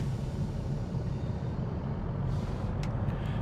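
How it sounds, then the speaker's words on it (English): Class 86 electric locomotive running in Train Sim World, heard inside the cab with the windows open: a steady low rumble and rolling noise, moderately loud, with a few brief sharp clicks near the end. "the engine noise wasn't very loud inside the cab"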